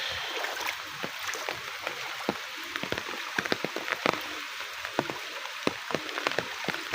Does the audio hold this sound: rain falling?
yes